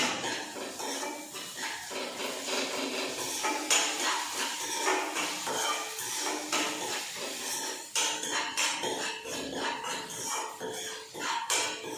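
A metal spoon stirs ginger into a masala in a pan, with steady scraping and clinking of utensil against the pan going on throughout.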